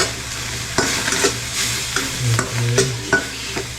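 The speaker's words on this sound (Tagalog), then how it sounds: "Papula-pulahin muna natin yung ating karne." Meat browning in a hot pan with onion, garlic and chili, a steady sizzle broken by scraping stirs of a utensil against the pan, close and fairly loud with no talking.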